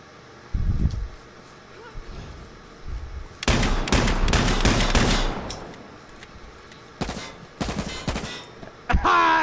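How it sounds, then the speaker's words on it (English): Bursts of gunfire in the video game H1Z1: Battle Royale crack out in several loud volleys with quieter stretches between them, and there is a faint background rumble. "I shot him in the head!"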